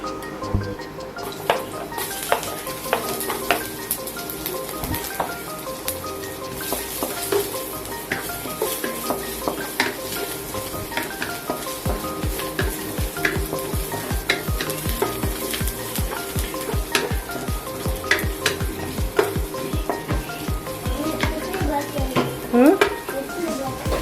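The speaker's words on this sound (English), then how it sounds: "Fry the shallot with garlic" Shallot and garlic frying in a pan at a Kuching mee sapi stall, a steady loud sizzle throughout with frequent scraping and clinking of a utensil stirring against the metal, close up.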